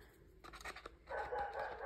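A dog barking indoors, a few faint yaps followed by a short, higher whining bark, heard from a distance in a quiet room.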